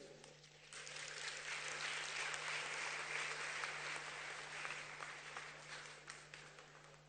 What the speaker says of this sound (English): Another round of applause for President Bayo